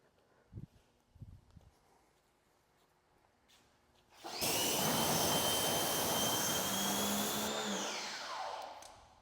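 A pressure washer bursts on after a few faint knocks and hisses loudly and steadily for several seconds while rinsing wheels, then its pitch drops as the spray winds down.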